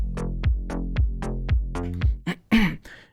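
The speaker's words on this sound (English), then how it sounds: "your kind of stereotypical synthwave bass line that sounds like this" A stereotypical synthwave bass line plays alone as a steady run of punchy synth notes, each with a quick falling tail, repeating about every half second before a couple of brighter, noisier hits close the phrase.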